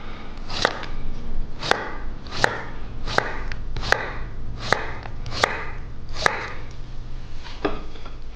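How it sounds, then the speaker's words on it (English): A knife slices cucumbers at an angle on a board, making about a dozen crisp, evenly spaced cuts up close, each a sharp tap with a short crunch. "I'm cutting the cucumbers on a nice angle"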